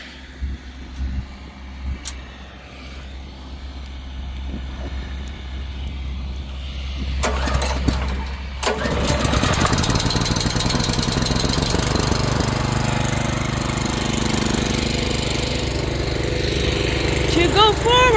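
A Benchmark reverse rotary tiller engine starts in a country garden after some quiet handling, then runs loud and continuous with a rough, knocking chug for the rest of the stretch, while a person talks briefly.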